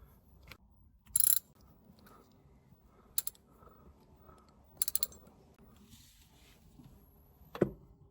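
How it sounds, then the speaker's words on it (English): Bolt being tightened on a Rieju RS2 Matrix Pro 125cc motorcycle during a restoration, heard as a few brief separate ratchet clicks and mechanical taps spread over quiet background, fairly faint and close. "Tighten that bolt up."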